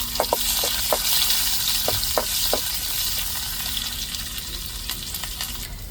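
Fenugreek seeds and onion frying in a pan for a fish curry, a steady close sizzle with scattered crackling pops and light stirring scrapes, no voices.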